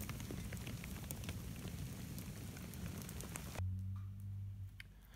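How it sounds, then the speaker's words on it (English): Hail falls outdoors at a wilderness trail camp, a dense steady patter of ice pellets striking surfaces nearby, continuous and fairly quiet, with a low rumble entering toward the end. "That's some pretty good hail."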